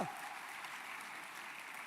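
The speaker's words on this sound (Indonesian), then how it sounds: "Tepuk tangannya yang paling meriah buat Tuhan kita." A church congregation bursts into lively applause during a sermon, a quiet but dense, even roar of many clapping hands that holds steady after a brief opening.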